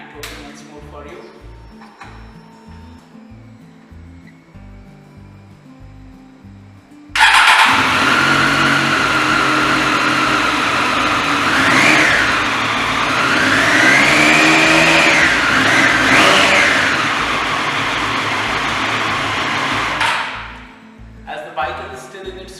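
A Triumph Street Triple RS motorcycle engine fires up after a stretch of quieter sound, then idles loudly and is revved in moderate swells, held to low-to-mid RPM during its running-in period, before cutting off near the end.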